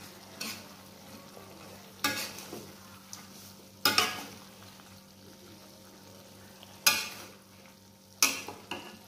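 Tempeh being stirred with palm sugar in a pan: a soft background sizzle broken by about five sharp scraping, clattering strokes of a spoon against the pan, close by, with no voices.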